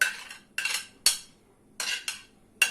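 Utensils clink and scrape in a bowl while tossing a chopped Greek salad of tomato and cucumber, about six short bright strokes in an uneven rhythm, close and fairly quiet.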